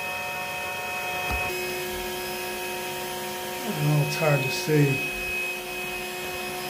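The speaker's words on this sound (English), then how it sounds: "Let me vacuum this up." A vacuum drones steadily as it sucks up honey bees during a cutout from a house roof, a constant hum while someone speaks briefly.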